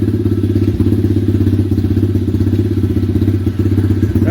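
An X-Pro 125cc dirt bike engine runs steadily at idle, up close and loud, with a continuous low rhythmic putter and light mechanical clatter throughout.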